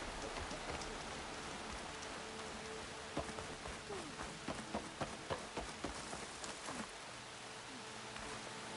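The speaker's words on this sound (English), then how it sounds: "Waiting for rain." Rain falls in the video game Horizon Forbidden West, a steady soft wash of drops on surfaces with a few brief footstep-like taps in the middle, faint and unbroken, no voices.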